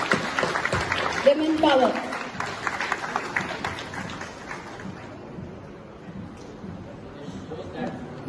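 An audience at a business workshop applauds a runner-up team, clapping strongest at the start and then thinning into a looser patter, with voices talking over it throughout.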